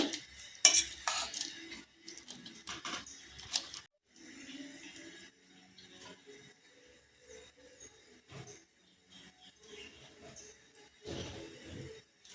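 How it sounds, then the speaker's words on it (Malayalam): Cooked plantain mashed with ghee, heard as irregular close scraping and pressing of a utensil against a pot or bowl, with soft knocks and pauses between strokes. "നന്നായി ഇത് ഉടച്ചെടുക്കാം."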